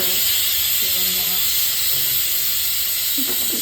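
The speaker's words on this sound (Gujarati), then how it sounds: "થોડી જીરું ભૂલાઈ ગયું તું તેલમાં નાખી દઉં છું" Cumin seeds added to hot oil sizzle with a loud, steady hiss that fills the whole moment, with a faint voice in the background.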